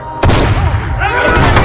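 Gunfire from a film scene crashes in with a sudden loud onset, then booming shots and rumble carry on under a voice that speaks over them.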